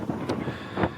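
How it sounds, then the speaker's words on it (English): Strong wind gusts buffet the microphone outdoors on a cold winter camping morning, two rushing surges rising and falling within a second. "Unfortunately, way too windy this morning to get the drone up."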